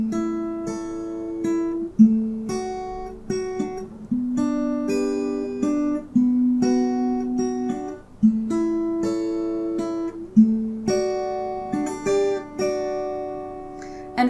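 An acoustic guitar fingerpicks the chord intro to a song from Frozen II in a steady, flowing arpeggiated pattern. Plucked notes ring over each other, with a new chord starting about every two seconds, played alone and close up.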